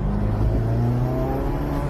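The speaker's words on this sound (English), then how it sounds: "And you can hear the turbo spool." A Lamborghini's exhaust drones loud and close with a steady, sustained engine tone, and the turbo spool blends into the continuous roar.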